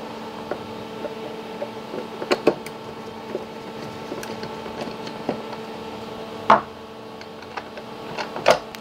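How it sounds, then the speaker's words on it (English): Small screws being unscrewed from the lid of an old motor circuit breaker, giving faint ticking and clicking with a few sharper close clicks and scrapes against a quiet, steady background hum. "We're going to start to disassemble the lid. This is usually just two screws."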